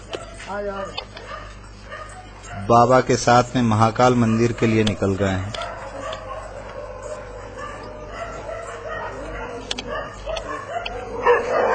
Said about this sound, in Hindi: साथ ही आपको अब दिखाई देंगे कि इनके साथ में शमशान में रहने वाले कुत्ते भी